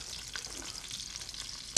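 Frog legs or crab cakes fry in oil in a tilted pan, making a faint, brief, steady sizzle that ends with a small click.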